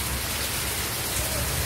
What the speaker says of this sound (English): So I've been ready for showing you the rain.